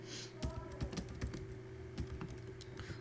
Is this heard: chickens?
no